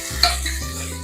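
Chopped onion frying in a pan for tomato bele sambar, a brief hiss and sizzle with a single sharp spatula scrape near the start, all within about a second.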